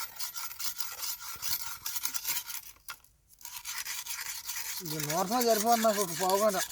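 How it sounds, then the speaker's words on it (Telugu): A sickle ground against a stone with sand for sharpening, a rough rhythmic rasping that pauses briefly and then resumes as a voice talks over it. "ఫస్ట్ ఎక్కువసేపు నూరాలి బాగా"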